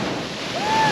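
Ocean surf during extreme coastal weather at Dongara, a loud continuous roar of breaking waves and blustery wind buffeting the microphone, swelling toward the end of one brief second.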